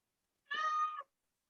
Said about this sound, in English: somebody feed the cat, would you?